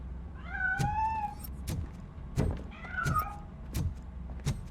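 In the video game RoboCop: Rogue City, a cat lets out two drawn-out meows as it escapes. Sharp thuds and knocks come between the meows, with no speech.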